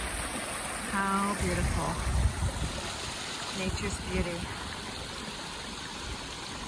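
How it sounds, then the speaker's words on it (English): Rushing stream along a hiking trail in California, a continuous close wash of flowing water with a person speaking briefly over it. "The cool flow of rushing water."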